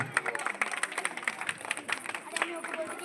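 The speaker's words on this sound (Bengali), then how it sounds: "একটা জোরে হাততালি হয়ে যাক" Loud applause from a studio audience at a Zee Bangla television cooking show, a dense patter of many hands clapping steadily for about three seconds with a faint murmur of voices underneath.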